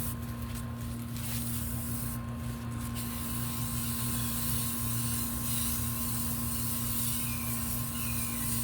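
Continuous close hiss of an airbrush spraying paint onto a model kit, steady and unbroken under a low background hum.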